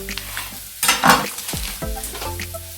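Chopped onions brown in a hot pan for a creamy mac and cheese, with a steady close sizzle and frying crackle swelling into louder bursts as they are stirred.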